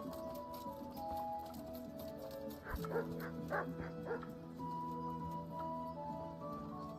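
A pet dog barks and whimpers in yips close by, with whiny tones and a cluster of sharp barks in the middle over a quiet room background.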